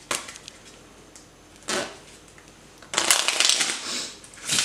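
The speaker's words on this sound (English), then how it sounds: "a couple of shuffles just to get it nice and mixed up" A deck of playing cards is shuffled during a card trick, with a short riffle burst followed by a longer, louder flutter of cards close by and little else in the room.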